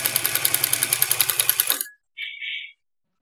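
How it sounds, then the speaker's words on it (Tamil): A sewing machine stitches a petticoat in a rapid, steady run of mechanical clatter lasting just under two seconds, then stops, followed by a brief high whir. "இதுவும் கால் இன்ச் தள்ளி ஒரு தையல் போட்டுக்கணும்"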